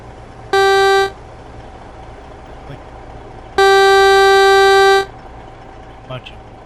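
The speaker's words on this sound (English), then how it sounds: "Is that the regular horn or is that the air horn?" Two loud blasts of a truck horn in American Truck Simulator, a short toot followed by a longer sustained honk of about a second and a half, each a bright steady tone over quiet engine rumble.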